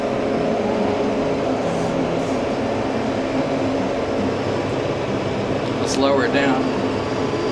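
A tractor engine drives a PTO implement at 540 RPM, a steady, loud mechanical drone with grinding, rattling texture throughout. Someone speaks briefly over it.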